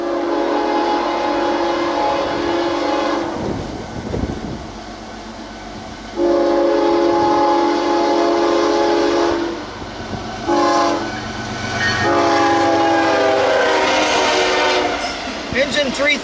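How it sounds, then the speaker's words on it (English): A freight train passes close by, its horn blaring in several long blasts separated by short gaps over a continuous rumble of rolling cars. "one more train was coming"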